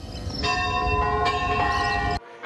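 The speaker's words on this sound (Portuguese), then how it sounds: "Estes foram os toques fúnebres que anunciaram a morte do Papa Francisco um dia após a Páscoa, no mês de abril." Church bells toll a funeral knell for the death of Pope Francis, with loud, ringing strikes whose long metallic hum sustains and overlaps before cutting off abruptly.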